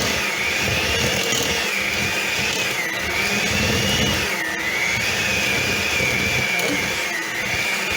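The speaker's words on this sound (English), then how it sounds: "Blend the sugar. And the butter together." An electric mixer whirs loud and steady, blending sugar and butter for a rutabaga pound cake, its motor pitch wavering slightly as the beaters work; a voice speaks briefly over it.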